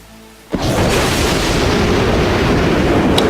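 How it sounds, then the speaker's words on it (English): A sudden booming crack of a lightning bolt strike in the Dies irae video game, followed by a loud, sustained rumbling roar that fills the rest of the moment. "She launched another lightning bolt, not holding back at all."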